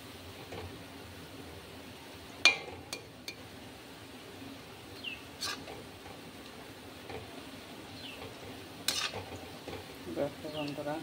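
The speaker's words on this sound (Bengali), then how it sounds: "এই যে তালের বড়া এরকম লাল লাল করে ভাজতে হবে।" Palm fritters (taler bora) frying in oil, giving a quiet, steady sizzle with a few sharp clinks of utensils against a pan.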